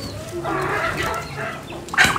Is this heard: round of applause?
no